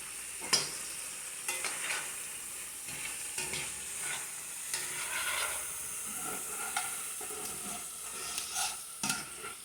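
Mixed vegetables frying in a hot pan while a salt, pepper and garlic house seasoning goes over them, giving a steady close sizzle and hiss with occasional stirring scrapes and taps, no voices.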